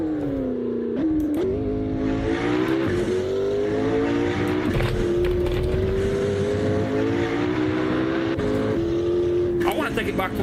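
A turbocharged car engine in the Assetto Corsa racing game holds a loud, sustained drone that rises and falls with gear shifts and revs. Tires squeal briefly near the end, and a voice talks over it.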